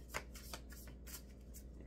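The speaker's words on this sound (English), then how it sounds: "I have, like, no grip on my fingers to shuffle the cards." Tarot cards being shuffled by hand during a reading, a quiet, close series of papery riffles and flicks in irregular bursts with no talking.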